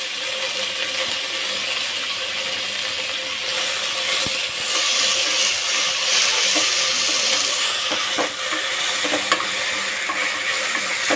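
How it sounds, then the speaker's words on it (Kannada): Ingredients for chicken sambar sizzle in a little oil inside a pressure cooker, a steady, close frying hiss with occasional stirring scrapes and clicks running the whole time. "ಚೆನ್ನಾಗಿ ಫ್ರೈ ಮಾಡ್ಕೊಬೇಕು."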